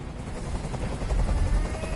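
Helicopter hovering in the game Detroit: Become Human, a steady low rotor thrum with broadband wash, fairly faint and continuous over two seconds with no voices.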